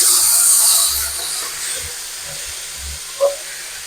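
Chopped tomatoes drop into hot oil with frying ginger-garlic, setting off a bright, close sizzle that is strongest at first, then eases to a softer crackle with a few low knocks.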